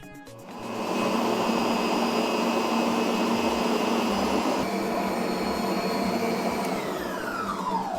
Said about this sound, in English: I'll send this to my stand mixer now